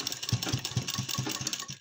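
A sewing machine stitches a belt onto a ready-made saree in a quick, even rhythm of soft mechanical beats, fairly faint and close by, with no talking.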